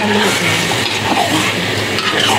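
A spoon stirs food in a cooking pan, steady scraping and sizzling loudly and close for a couple of seconds without pause.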